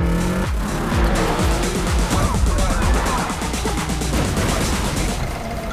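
Street-racing car in Need for Speed Unbound speeding and skidding, with loud engine roar and repeated tire squeals over a steady rushing drive, no voices.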